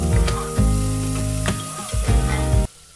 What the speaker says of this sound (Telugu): దీంట్లో ఆనియన్స్ వేసుకొని ఫస్ట్ ఆనియన్స్ని మంచిగా లైట్ బ్రౌన్ చేసుకోవాలి